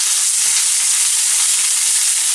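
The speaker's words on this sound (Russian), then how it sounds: "В разогретую сковородку с растительным маслом отправляем консервированный зеленый горошек" Canned green peas sizzle steadily in hot vegetable oil in a frying pan, a continuous bright crackling hiss up close with no pauses.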